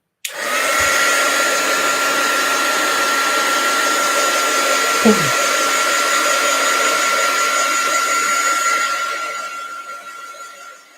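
A hair dryer runs steadily for about nine seconds, a loud close whooshing motor hum that starts abruptly, with a couple of small knocks partway through, then winds down and fades at the end.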